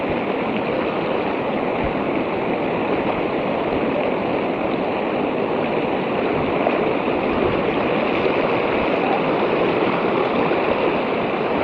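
Strong river current rushing over rocks at a campsite near Coto Mines, heard as a loud, steady, unbroken roar of water that fills the whole stretch with no talk.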